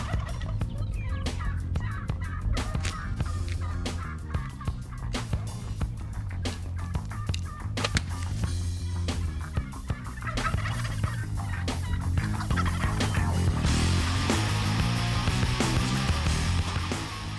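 Wild turkey tom gobbling during a bow hunt, repeated loud gobbles amid rustling and close activity, steady and continuous without speech.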